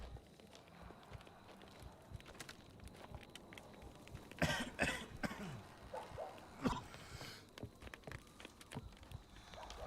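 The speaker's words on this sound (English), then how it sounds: "You get past them by not coughing by them." A character coughs in the horror video game Maid of Sker, with several rough bursts in the middle of a quiet stretch, set among soft footstep-like thuds and faint ambience.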